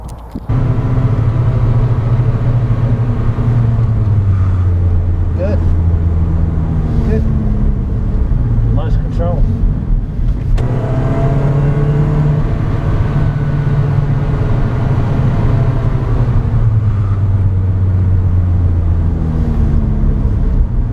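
A Lotus sports car driven on a track with ABS switched off; a loud in-cabin engine drone rises and falls as the throttle comes off and back on through corners, with voices talking over it.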